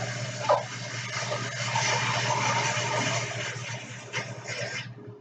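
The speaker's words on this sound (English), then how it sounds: "Now I'm going to go over to my sink and I'm going to fill up some water." Water runs from a kitchen sink tap into a pan already holding ten eggs, making a steady gushing fill with a low background hum and a couple of brief clanks near the end before the flow stops.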